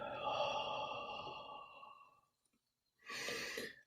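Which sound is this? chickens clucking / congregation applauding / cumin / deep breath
deep breath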